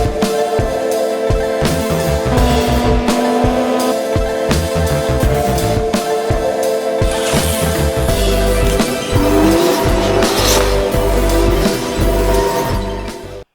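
A loud BMW Z3 engine rumbles and revs with a raw, unmuffled straight-pipe exhaust note, rising and falling close by before cutting off abruptly.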